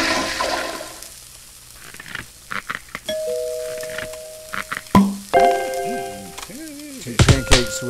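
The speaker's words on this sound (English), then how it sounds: "toilet." A cartoonish toilet flush rushes loudly in the restaurant game Cook, Serve, Delicious, mixed with chiming bell tones and short game sound effects.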